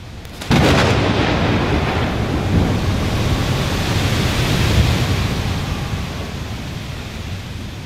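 A thunderstorm sound effect in a Korean history radio documentary opens with a sharp thunder crack, then a loud, sustained roar of rain and rumbling that slowly fades.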